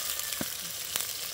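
Seasoning and ingredients being stir-fried in a pot for a Jamaican ackee and saltfish meal make a soft, steady sizzle, with a couple of brief stirring scrapes, faint and close, and no talk.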